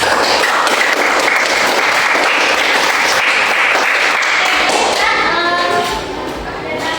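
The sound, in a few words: students applauding in a classroom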